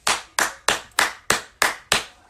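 Applause for the youth at a public address: seven sharp, evenly spaced hand claps, close and loud, with no talking.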